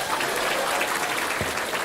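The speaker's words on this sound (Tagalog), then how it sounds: "Palakpak!" An audience at a seminar applauds, a dense, continuous clapping that stays loud throughout.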